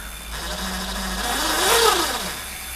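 An LR Big Block electric bike motor on a conversion kit runs under throttle, giving a steady mid-pitched whine that rises and falls once with a brief surge near the middle, close and fairly loud, with no talking.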